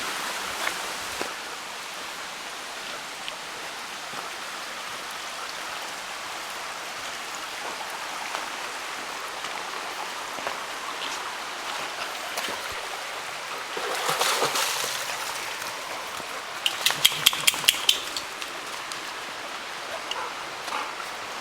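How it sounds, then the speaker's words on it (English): Creek flowing along Fox Trail in South Mountains State Park, a soft steady rush of water heard close by, with a brief louder splashing burst near the end. "we've reached the creek, which is kind of in the middle of Fox Trail"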